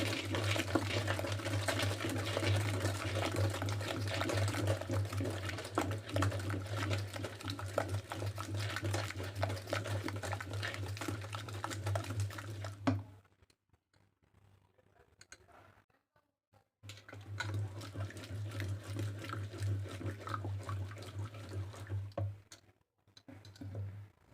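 Steady rhythmic churning and mashing of cooked horse gram lentils in a pot with a hand churner, a continuous stirring clatter with a low hum, pausing briefly midway before resuming.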